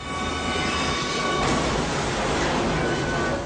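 Oncoming train in a film stunt scene, a steady broadband rumble with faint high tonal squeal, loud and continuous throughout.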